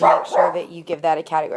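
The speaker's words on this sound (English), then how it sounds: "Sorry, that's my dog." Dog barking in a home during a spoken lesson, the short barks overlapping a nearby voice that keeps talking.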